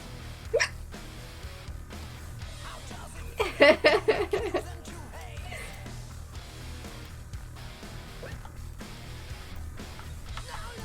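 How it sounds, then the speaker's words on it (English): A run of sharp, quick hiccups from a woman with long-lasting hiccups, one early then a tight cluster of several, close and fairly loud over a quiet room, with faint breathy sounds around them. "I still have hiccups."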